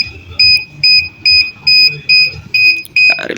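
An ultrasonic parking sensor's buzzer beeps in a steady series of about eight short, evenly spaced tones, close and clear over low background noise, with no talk.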